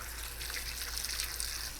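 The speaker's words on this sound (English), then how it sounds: "Okay, so I'm gonna put a little bit more water in here." Water runs steadily from a tap into a container for rinsing a freshly cleaned freshwater drum fish, a continuous close splashing hiss with no talk.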